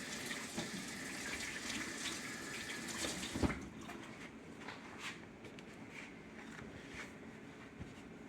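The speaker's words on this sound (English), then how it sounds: "we wash your hand off again" Water from a tap gushes steadily as hands are rinsed in a home kitchen while cooking spaghetti, a continuous broadband splash with a brief louder knock midway and softer running water afterward.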